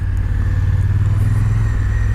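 A Honda Africa Twin motorcycle being ridden, its engine a loud, steady low drone with a constant hum, heard close with no voices.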